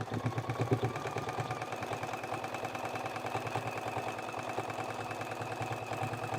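A sewing machine runs steadily, stitching the seam of a scrap-fabric trivet in a close, even mechanical drone that continues throughout with no talking.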